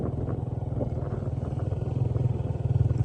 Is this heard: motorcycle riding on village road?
yes